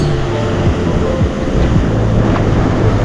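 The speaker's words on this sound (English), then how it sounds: "nice wave coming there" Ocean waves breaking on a shore, a loud, continuous rushing wash of surf with wind buffeting the microphone throughout.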